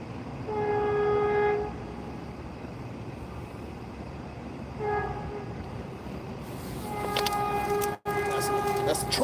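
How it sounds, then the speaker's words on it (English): A train passes near a bike ride, sounding repeated loud horn blasts over a rushing rumble and wind noise. "That's the train."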